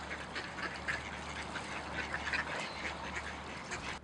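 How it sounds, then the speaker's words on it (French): Duck quacks repeat in a steady, moderately close series over a constant low hum, with no talk. "ceci est un canard"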